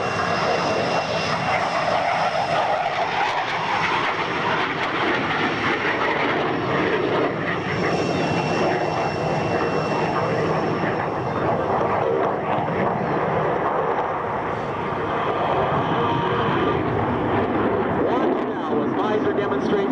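A CF-18 fighter jet with F404 engines makes a pass at a 1999 Red Deer airshow demonstration. Its loud, sustained jet roar fills the whole stretch and swells and fades slightly as it passes, with an announcer's voice beneath.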